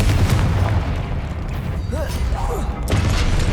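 A Confringo blasting spell explosion in the Hogwarts Legacy video game, a booming blast amid continuous loud game noise, with short whooshing effects and a second impact near the end.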